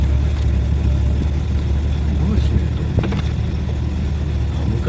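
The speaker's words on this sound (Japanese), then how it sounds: "エンジン始動です。" A 1981 Toyota Soarer's engine runs steadily at close range, a low, even rumble filling the short stretch, with a faint click or two over the hum.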